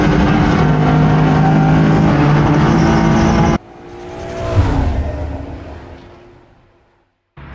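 A BMW E36 race car at the Nürburgring, its engine loud and steady for a few seconds, then cutting to a quieter engine sound that swells and fades away as it passes.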